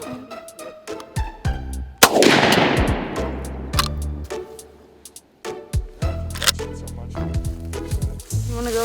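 Outdoor hunting shotgun firing, one loud close blast that rings and decays, set among sharp clicks and handling noises before and after.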